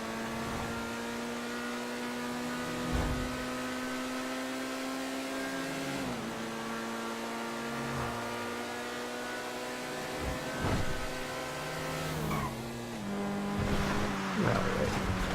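A Progen Itali GTB sports car idles in Grand Theft Auto, holding a steady, smooth engine drone that shifts pitch slightly now and then, with faint background noises over it.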